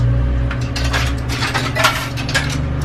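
Fresh farm eggs drop through a farm egg vending machine, a steady mechanical whirring and rattling with clinks and a few knocks as the carton comes down, close and moderately loud.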